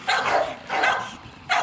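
A 15-month-old dog gives three short, bright barks, evenly spaced and close by, with brief quiet gaps between them.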